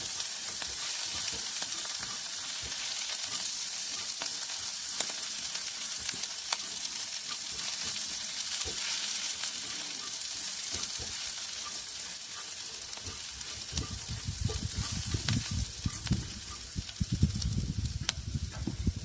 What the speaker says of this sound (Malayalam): പച്ചമുളക് ചേർത്ത് നന്നായിട്ട് വഴറ്റാം